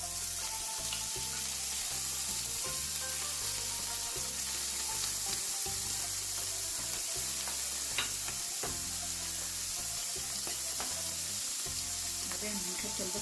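Liver and gizzards frying in ghee for stuffed duck, a steady dense sizzle running throughout with a low repetitive thumping in the background, no talk.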